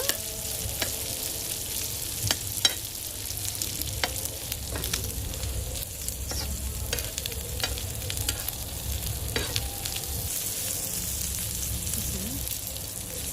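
Prawns fry with a steady loud sizzle in a hot pan while a spoon stirs them, scraping and clinking against the metal now and then, with curry leaves to follow.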